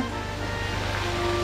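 Waterfalls pour with a steady, broadband rushing roar that stays even and continuous, close and fairly loud, with no voices over it.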